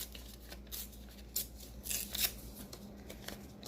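Scissors snip a long strip from a paper sticky note in a few quiet, close cuts, with faint crinkling in a hushed room and no talking.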